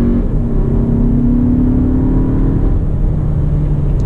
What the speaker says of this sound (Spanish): vamos a pisar a fondo, pero en modo normal, todavía no ponemos ni siquiera el modo sport